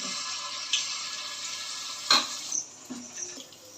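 A small test drop of mango pitha batter goes into oil in a kadai that is not yet fully hot, giving a soft, steady sizzle with a few light clicks and bubbling pops, close by and with no voices.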